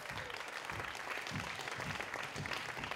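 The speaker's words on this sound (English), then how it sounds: "A nice, loud round of applause." An audience at a spoken word poetry showcase claps continuously in a dense, steady round of applause throughout.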